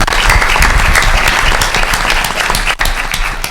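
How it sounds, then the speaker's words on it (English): Dense, loud audience applause fills a hip hop and politics conference hall, steady clapping throughout with a brief dip near the end and no voices over it. "Ladies and gentlemen, give him a round of applause."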